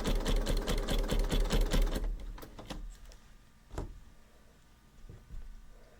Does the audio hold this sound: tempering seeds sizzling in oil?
no